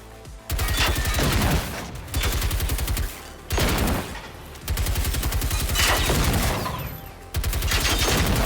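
Loud bursts of rapid automatic gunfire firing shock ammunition in Generation Zero, several long volleys separated by short gaps, with game-style sound effects.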